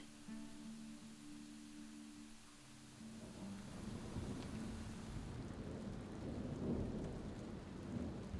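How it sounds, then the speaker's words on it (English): Steady rain falls with thunder rolling in, the rumble growing heavier partway through alongside a constant wash of rain on surfaces, with no talking. "It's been kind of raining since this morning"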